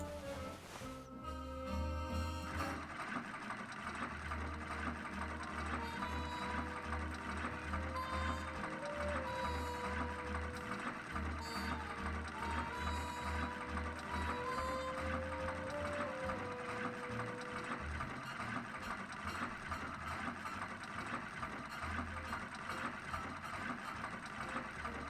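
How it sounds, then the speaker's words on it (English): A sewing machine stitches a dress in a steady, continuous mechanical whir with rhythmic ratcheting clicks. It runs loud and close for most of the stretch after a brief start. "I can start sewing"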